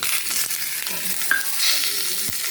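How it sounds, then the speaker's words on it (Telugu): Coconut and mango pieces sizzle steadily in a pan for mango chutney, with soft stirring scrapes and small clinks over the continuous frying hiss. "బాగా ఫ్రై చేసుకుందాం."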